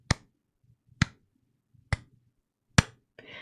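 Four slow, single hand claps spaced about a second apart, sharp and close in a quiet room, followed by a short burst of softer noise.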